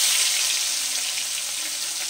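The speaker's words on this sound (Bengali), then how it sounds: "মাছগুলো আমি দুবারে ভেজে নিলাম।" Pieces of catla fish fry in hot oil, a steady bright hiss and crackle held at an even level throughout, close and alone with no voices.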